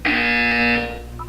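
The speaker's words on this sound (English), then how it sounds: "When you hear the buzzer, look down at the floor." A loud, harsh electronic buzzer from the video game Portal 2 sounds once, holding steady for under a second before fading, followed by a brief higher electronic blip.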